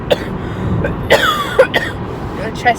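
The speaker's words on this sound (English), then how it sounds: "My throat, my God, I keep coughing and it's really like a chesty" A chesty, painful-sounding cough bursts out several times, short harsh hacks with a slight whistling rasp, close to the listener, with someone talking in between in a casual home setting.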